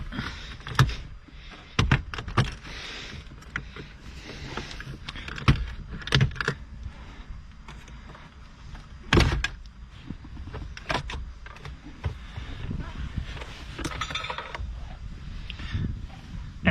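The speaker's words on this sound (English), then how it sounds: "I'm gonna grab my prying tool and then sort of start going through these gaps and loosen it up a bit from the top as well." Plastic trim clicking and scraping as a prying tool works loose the dashboard panel of a 2009-2015 Lexus RX, a scatter of close, sharp snaps and creaks with quieter rustling between them and no talking.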